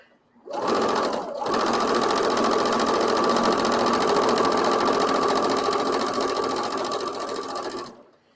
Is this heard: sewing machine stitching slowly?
yes